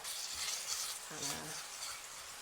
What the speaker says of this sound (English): I'm gonna let that start to sizzle.